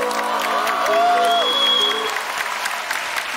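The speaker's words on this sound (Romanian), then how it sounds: "Aplauze" Audience applause fills the room, steady clapping from a crowd that swells briefly then fades, with a few tonal sounds riding over it.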